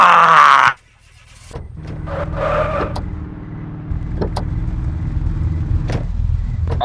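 A Lamborghini in a multiplayer video game being moved, with a loud burst at the start, then a steady low engine hum running underneath with scattered short clicks and knocks.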